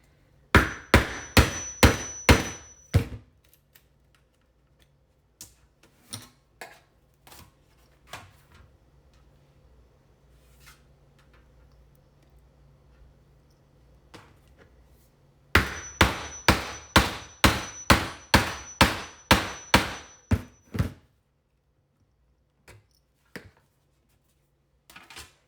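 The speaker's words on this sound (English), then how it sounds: "Take your hammer. Let me hit it a little more." Sharp hammer strikes on a grave vault wreath being pierced for a hole, landing in two rapid bursts of about a dozen loud, evenly spaced blows each, separated by a stretch of quieter scattered taps and handling noise.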